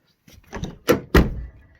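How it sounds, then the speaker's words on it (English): Nissan S13 car door being handled and shut, with a few light clunks leading into two firm, solid slams close by, then a brief fading rattle. "you can shut the door"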